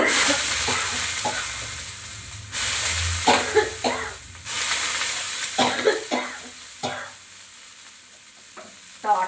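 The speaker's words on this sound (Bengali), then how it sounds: "আমি তাওয়াতে অল্প সাদা তেল দিয়ে দিচ্ছি" White oil sizzles on a hot tawa griddle, a steady hiss broken by scraping and spreading strokes, with louder bursts midway and near the end.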